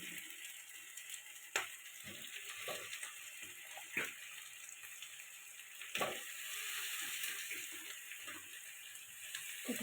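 Chicken sautés with garlic and ginger in a pan, giving a faint, steady sizzle punctuated by irregular scrapes and knocks of a spoon stirring.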